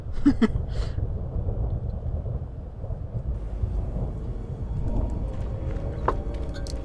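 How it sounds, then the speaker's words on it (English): Thunder rumbles in the Star Wars game Knights of the Old Republic II on the planet Dxun, a low continuous roll with a few sharper cracks, moderately loud, with no voices. "I find it interesting how the thunder sound effect continues during the loading screens on Duxon."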